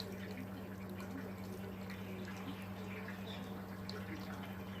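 Tap water running steadily through a wort chiller while cooling a 23-litre home-brew batch, a continuous low rushing flow with a faint hum and occasional drips, fairly quiet and without talk.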